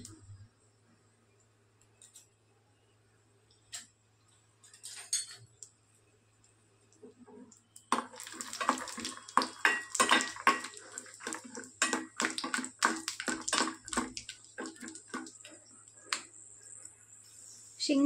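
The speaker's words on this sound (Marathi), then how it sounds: "त्यात शेंगदाणे मी थोडेसे तळून घेते" Peanuts fry in a little oil in a small tempering pan on a gas stove, starting quiet and then crackling and popping loudly and irregularly for the second half.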